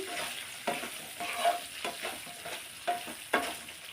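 Bottle gourd pieces fry in a pan with a steady sizzle, broken by several sharp stirring scrapes and clinks at irregular intervals, close and moderately loud with no voices.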